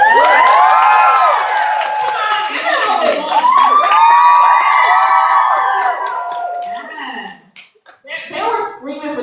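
An audience screams and cheers loudly at a live tour event, with high shrieks and whoops layered in a dense, sustained roar. It fades out near the end, and then a few voices talk.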